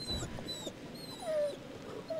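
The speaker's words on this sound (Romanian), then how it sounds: "Oh, săracul cu câine." Dog in the horror video game The Devil In Me whimpering in a few high, wavering whines, fairly close and moderately loud over a low ambient background.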